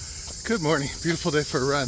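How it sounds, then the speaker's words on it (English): A steady high, shrill insect drone, like cicadas, runs throughout beneath a person speaking briefly. "Listen to those cicadas singing me on."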